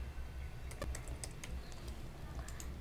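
Keys clatter on a computer keyboard while a password is typed into a PHP admin registration form, a quiet run of quick, uneven taps over a low background hum.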